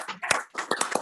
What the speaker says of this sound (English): Supervisor Konecki's leading the round of applause